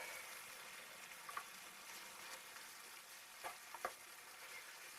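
Bolognese sauce with a little crushed chili fries quietly in a pan, a soft steady sizzle broken by a few scraping stirs of a spoon.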